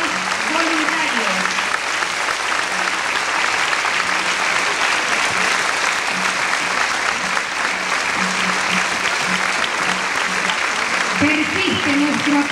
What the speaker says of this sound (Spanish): Persiste nuestro aplauso